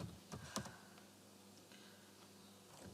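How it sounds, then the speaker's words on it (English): Someone types a password on a computer keyboard, with a few faint clicks standing out early and the rest soft and quiet against low room noise. "Let me type my password."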